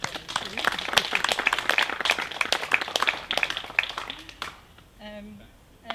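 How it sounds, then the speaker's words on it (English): A small outdoor gathering at the dedication of a reflective space gives a round of applause, a few seconds of scattered, moderately loud hand claps that taper off, followed by brief speech. "I think we should give a big round of applause to Johnny"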